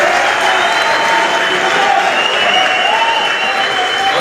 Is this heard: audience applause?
yes